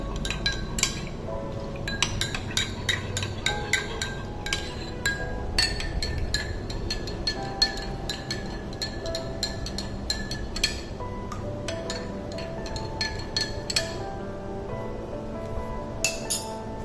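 A spoon stirs raw mango drink (kairi panha) in a metal vessel, giving rapid, steady clinks and scrapes close by for the whole stretch, with no talk over it.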